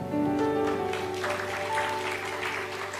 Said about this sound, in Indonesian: Saudara yang tepuk tangan, terima kasih.